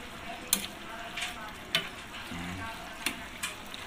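Ginataang sitaw, string beans with labahita fish in coconut milk, being stirred in a pan: soft steady sizzling and bubbling broken by several sharp scraping clacks of the spoon against the pan, close and clear, with no talk.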